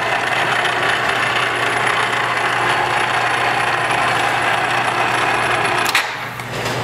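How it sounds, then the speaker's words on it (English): Two CM electric chain hoist motors run together to raise a stage truss, a steady loud mechanical whir with a constant low hum and ratcheting chain texture that stops abruptly near the end. "I'm going to run the truss up with both motors running together."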